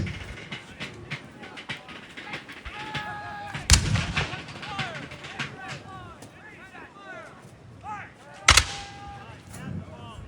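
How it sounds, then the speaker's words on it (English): A British battalion line fires a musket volley during a Bunker Hill battle reenactment, giving two loud, sharp cracks several seconds apart over an outdoor crowd murmur with people talking throughout. "looks like the British battalion line is ready to fire"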